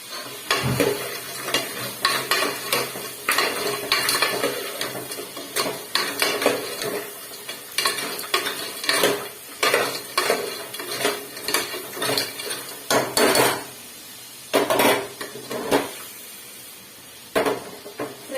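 Masala with a pinch of turmeric frying in a pan for clam sambar, heard as repeated metal clatter of a spoon stirring and scraping the pan over a low sizzle, close and steady with no talking.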